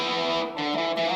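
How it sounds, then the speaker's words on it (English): An electric guitar played through a Boss DS-1 distortion pedal with the wah off gives a thick, saturated sustained chord tone that dips once briefly and comes back strong, loud and close, with no talk. "If I switch it back to our classic distortion pedal, the DS1, here it is without the wah on."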